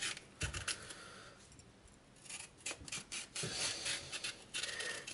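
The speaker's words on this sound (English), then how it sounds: "I'm gonna cut off the tops and score them, make some stripes down the middle" A knife cuts the tops off green plantains and scores stripes down their skins, giving close, quiet rasping and scraping strokes in short bursts with brief pauses, no talking.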